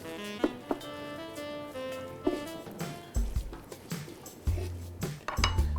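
Chopped coriander being mixed in a bowl, a run of metallic clinks and ringing taps of a spoon on the dish, then duller scraping and knocks, close and moderately quiet.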